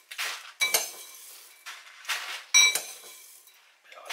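Dehydrated camping meal is spooned into a storage bag in short bursts of dry rustling and crinkling, with a few sharp clinks of the spoon against a container between quieter pauses.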